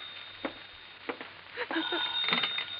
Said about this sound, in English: Better answer that phone, Howard.